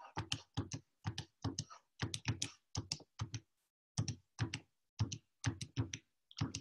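Rapid plastic key presses tap out data entry on a calculator, crisp close clicks in quick bursts separated by short pauses.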